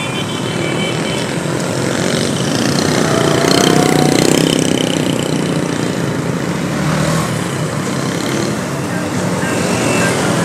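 A Saigon street traffic jam of cars and motorbikes near Thu Duc market and Vo Van Ngan road on a hot afternoon, with dense idling engines and a loud, constant roadway rumble.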